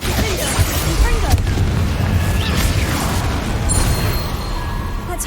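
A Confringo spell in the video game Hogwarts Legacy produces a dense, rumbling explosive burst with crackling debris and combat clatter, loud and sustained throughout, mixed with game noise.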